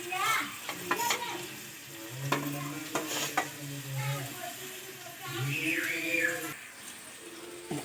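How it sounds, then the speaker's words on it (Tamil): Crab being stirred and fried in a pan for a spicy crab gravy, with a steady sizzle broken by scraping stir strokes and clanks, while a voice talks over parts of it. "நண்டை போட்டு நல்லா கலரிப்போம்"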